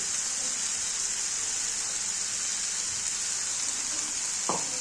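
Leftover ground masala fries in a pan for a brinjal fry curry, giving a steady, close, even sizzle with a brief stir or scrape near the end.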